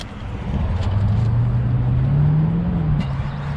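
A modified car exhaust revs up close, its engine tone rising in pitch across a couple of seconds before dipping slightly at the end, loud and steady with no talking.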